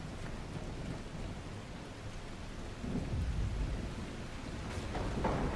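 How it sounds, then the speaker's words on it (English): Thunderstorm with rain in the video game The Last Caretaker: a steady hiss of rainfall with a low rumble of thunder swelling midway, fairly faint and continuous, with no voices. "I got a storm."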